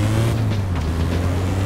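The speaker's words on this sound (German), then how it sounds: "Aber der Pickup da fährt deutlich besser." A pickup truck drives in the video game APB Reloaded, its engine holding a steady, loud droning hum with a low, even pitch throughout.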